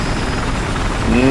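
A helicopter in Battlefield 4 on the Paracel Storm map flies with a steady rotor and engine drone, heard briefly as a voice talks over it.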